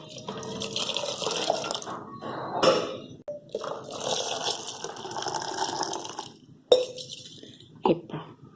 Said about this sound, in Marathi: दही केवढं असेल त्याच्या दुप्पट पाणी घाला